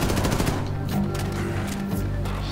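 SMG fire in the video game Wolfenstein II, a dense, continuous stream of rapid shots layered over a busy, loud game soundscape.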